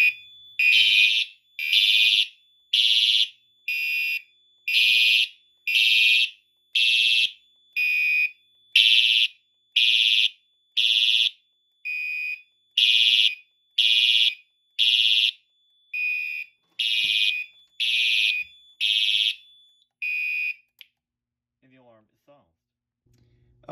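A Fire-Lite MS-4424B fire alarm system sounding after a pull station is activated: loud, piercing electronic horn blasts repeating in a steady on-off pattern for about twenty seconds, then stopping.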